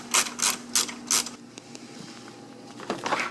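Several short ratcheting bursts from a driver turning T30 screws out of the plastic underbody cover beneath the front bumper of a 2011-on third-generation Ford Focus, with quiet gaps between them and a final clicking flurry near the end.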